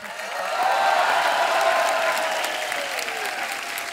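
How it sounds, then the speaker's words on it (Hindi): A studio audience claps together in a sustained burst of applause on a comedy talk show, swelling quickly and then fading slightly over a few seconds. "लोग तालियां बजा रहे हैं।"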